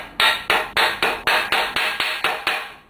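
A large screwdriver hammered into the steering neck of a Yamaha CT175 motorcycle, ten evenly spaced loud metallic strikes in quick succession, close and ringing.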